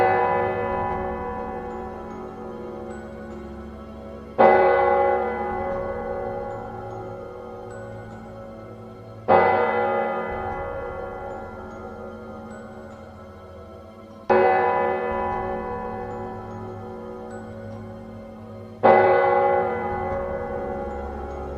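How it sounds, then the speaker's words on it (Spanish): Church bells ring in a slow, steady series of four loud, struck tolls a few seconds apart, each leaving a long, shimmering decay that fades before the next strike, with no voices. "de pronto las campanas de la iglesia comenzaron a sonar"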